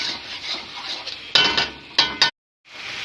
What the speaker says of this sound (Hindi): मीडियम आंच पे इसको भुनाई करनी है हमने 2 से 3 मिनट या 5 मिनट करें इसकी भुनाई ज़रा।